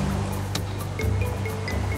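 Waves wash onto a beach on a cloudy day in Sao Tome and Principe, a steady close surf hiss with small splashes and no voices.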